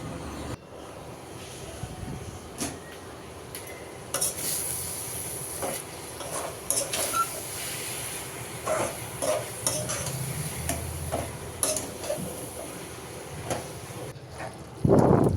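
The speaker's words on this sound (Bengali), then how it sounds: "মশলাটা ভালোভাবে কষিয়ে নিয়ে এখন এই শাকগুলো দিয়ে দিচ্ছি" Fresh greens are tossed into a pan of well-fried spices and stirred, giving a steady sizzle broken by scraping and clinking of the spatula against the pan, with no talking.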